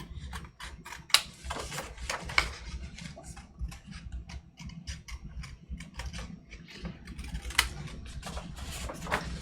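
Scissors or a blade trimming along the outer edge of a paper butterfly shape, giving a string of soft crisp snips and ticks close by at an uneven pace, with no talk.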